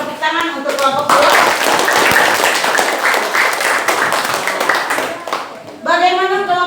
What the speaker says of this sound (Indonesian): Kita hargai tepuk tangan untuk kelompok 2.